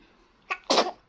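A baby sneezes during a feeding, a small catch followed by one sharper, fuller burst, close and clear against a quiet room.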